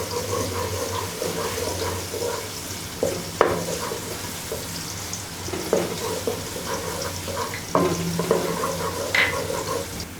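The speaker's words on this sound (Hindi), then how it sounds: "प्याज को हमने लाइट ब्राउन करना है" Onions frying in a pan until light brown for dhaba-style daal mash, with a steady close sizzle and a few clattering stirs across the whole stretch.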